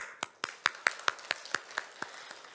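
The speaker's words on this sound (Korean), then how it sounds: "저는 우리 권사님들에게 박수를 주고 싶어요. 박수 한번." A church congregation claps together in a steady rhythm of about a dozen sharp, evenly spaced claps, moderately loud and close, honoring the deaconesses.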